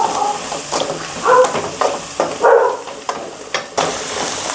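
Vegetables cook in hot oil over a low flame, the soft frying sizzle broken by several stirring scrapes and clatters, close and alone with no talking.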